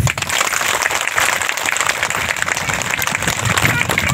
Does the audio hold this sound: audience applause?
yes